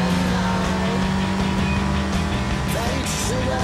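A car accelerates away in the open-world game Sleeping Dogs with a steady engine drone and a faint tire squeal, under overlapping urgent voices.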